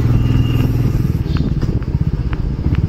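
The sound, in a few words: motorcycle riding uphill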